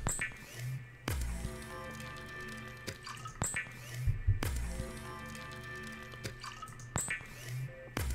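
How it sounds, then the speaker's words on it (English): Drinking water through a straw in the underwater survival game Subnautica: faint, repeated liquid slurps and drips with a soft sucking gurgle, recurring in a few short bursts over steady low game ambience. "I like the little straw noise at the end."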